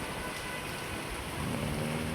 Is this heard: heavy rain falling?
yes